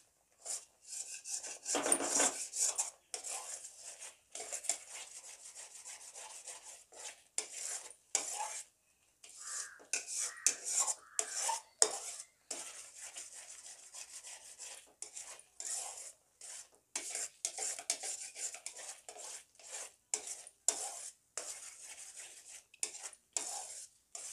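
A spoon stirs and scrapes a thickening homemade milk powder mixture in a pan, giving repeated short rasping strokes against the metal with brief pauses between them, close and fairly quiet with no talking.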